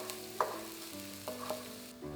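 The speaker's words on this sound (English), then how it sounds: "Toss in the chopped garlic, ginger, and the Chinese dried chili peppers." Chopped garlic, ginger and Chinese dried chili peppers sizzle softly in hot oil for a stir fry of cabbage and ground beef, with faint stirring clicks and no talk.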